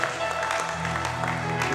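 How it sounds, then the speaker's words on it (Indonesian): A congregation claps during a Sunday church service. The applause is fairly quiet and runs under a voice and sustained tones. "Tepuk tangan yang meriah untuk Tuhan"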